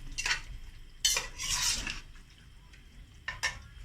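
Chicken with capsicum being stirred in a pan: a few distinct spatula scrapes and clinks against the metal, with only faint frying underneath and no talk.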